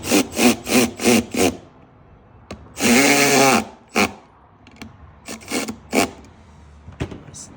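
Mounting hardware for Harley Softail saddlebags on an M8 Softail is worked with a hand tool, giving a run of five sharp ratcheting bursts, then one longer grinding rasp and scattered clicks and taps close by, with no talk.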